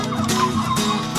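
Young turkeys imported for breeding cluck and gabble close by on a turkey farm, with a quick series of short calls that overlap one another.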